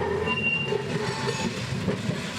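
A Brisbane tram of the 1960s era rolls along street rails with a steady rumbling and faint wheel squeal, a continuous moderate drone with no voices.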